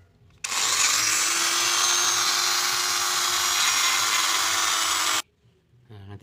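A power drill bores holes through a sheet for a miniature truck door hinge. It gives one steady, loud whine of about five seconds that stops abruptly, with a faint clatter afterward.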